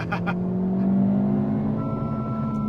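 A 2025 Honda Civic Si engine hums and rises in pitch as it revs, steady and fairly close, with a couple of brief higher beeps from the car near the end.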